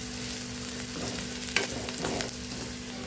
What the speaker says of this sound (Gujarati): ડુંગળી અને ગાજર મસ્ત એવું સતળાઈ ગયું છે આપણું